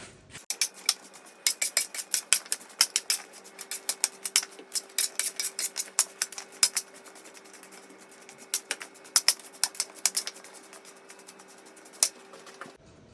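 A mixture stirred by hand before butter is added, heard as a series of crisp, irregular scraping clicks and taps from utensil against a dish, close and fairly loud, with steady faint hum behind and no talking.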